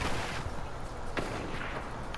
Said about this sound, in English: I hear there's this gunshots here.